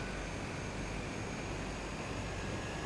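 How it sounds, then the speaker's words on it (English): Small propeller aircraft engine in flight, a steady, continuous drone that fills the whole stretch without change, heard from inside the cabin with no talking. "These planes you are meant to land powered, unlike the little Cessnas I'm used to."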